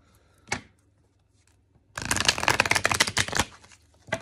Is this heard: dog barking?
no